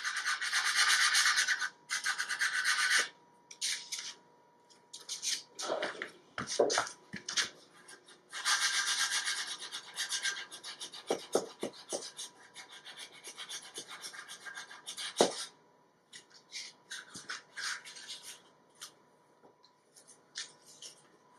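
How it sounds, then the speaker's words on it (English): A sanding block with sharp edges rubs over wood, blending rounded-over edges where they meet at a corner of a furniture subassembly. Close, dry rasping strokes come in repeated bursts with short pauses between them. "I'll get the sanding block with the sharp edges."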